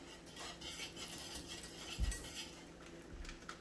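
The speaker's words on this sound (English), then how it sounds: "I'll just keep whisking this together, and that's going to help thicken this up as well." A whisk scrapes and swirls through keto beef gravy in a pan, a steady soft stirring texture with one louder knock against the pan midway.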